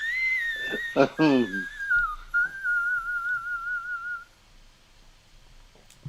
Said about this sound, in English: Here comes whistle number 5.